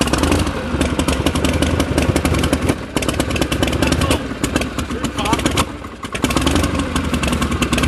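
A Harley-Davidson Duo Glide motorcycle engine runs loud and close, a rough continuous rumble with clattering mechanical noise and small swells of throttle, while people talk over it.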